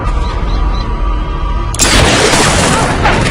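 A sniper gunshot in an action movie erupts as a single loud, sharp boom with a long broad rumbling tail, following tense dialogue and score.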